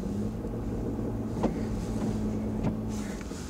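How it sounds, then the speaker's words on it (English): A Ford F150 EcoBoost pickup accelerating at full throttle in snow gives a steady low engine drone with a held tone, plus a few brief knocks and clunks over the constant rumble, and no talk. "this will be a kind of a full throttle acceleration"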